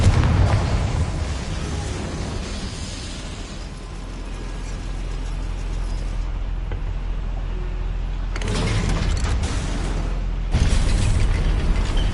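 The Confringo fire spell in Hogwarts Legacy sets off a booming explosion, followed by a sustained rumbling roar with bursts of louder crackle and rumble.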